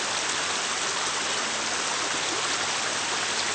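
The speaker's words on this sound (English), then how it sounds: "Here's more of Cress Creek." Warm, spring-fed Cress Creek flowing steadily, a dense, even rush of water that stays constant and close throughout with no voices.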